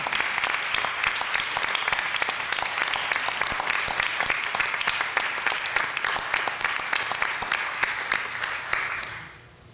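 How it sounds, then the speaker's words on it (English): Applause for an award winner at a school board meeting, dense steady clapping from a seated audience that carries on for several seconds, then fades out at the end. "if we can give him a round of applause"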